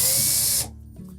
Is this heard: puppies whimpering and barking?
no